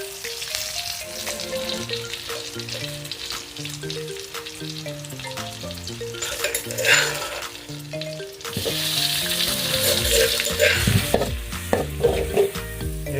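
Steady sizzling of pounded garlic frying in a pan, loud and close, with stirring scrapes and clatter building toward the end; musical tones run underneath.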